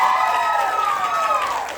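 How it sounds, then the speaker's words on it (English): Cheering and applause from the crowd at an end-of-year youth theatre cabaret celebration, with voices whooping and shouting in sustained tones above a bed of clapping, loud and continuous. "Get a round of applause for everybody who showed up tonight."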